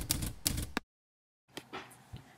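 Typewriter keys striking paper: a few sharp, loud clacks in quick succession, a silent gap, then more scattered keystrikes and mechanical knocks, close and dry with no voices.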